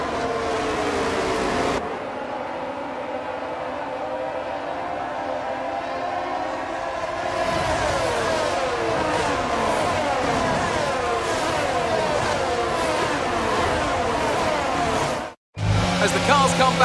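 Formula 1 cars on a formation lap in the racing game F1 22 at the Dutch Grand Prix in dry conditions: a steady, continuous drone of engines rising in pitch and layering as more cars pass, with commentary talk running over it throughout.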